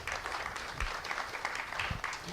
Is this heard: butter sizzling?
no